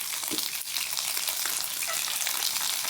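Chicken wings fry in a pan for a pineapple stir-fry, giving a steady, fairly loud hiss and crackle that holds through the whole stretch with no voices over it.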